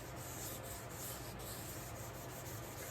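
Continuous soft rubbing of wet sanding on a motorcycle gas tank, a steady, even scrubbing texture with faint rhythmic strokes, quiet and close with no talking.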